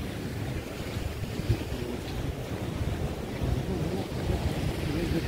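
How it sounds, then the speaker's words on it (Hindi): Sea waves surging against the coast near the Bhadkeshwar Mahadev temple at Dwarka, a steady broad roar with heavy wind buffeting the microphone and no clear individual breakers. "समुद्र की लहर है, देखो कितना खतरनाक है।"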